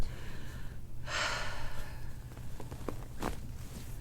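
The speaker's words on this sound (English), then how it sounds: "Take a deep breath in." A patient on a chiropractic table takes one deep audible breath in, a breathy rush near the start, followed by faint rustling and small movement sounds close by.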